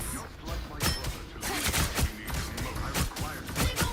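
Rapid gunfire bursts from a shooter in the hero game Marvel Rivals, dense overlapping shots and impacts mixed with ability effects, loud and continuous across the moment.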